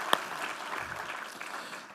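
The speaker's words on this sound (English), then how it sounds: "let's give Brian and Nydia another round of applause" A conference audience at OpenSSF Day, Open Source Summit North America, applauds presenters Brian and Nydia, giving a brief, even crowd clapping with one sharp clap near the start.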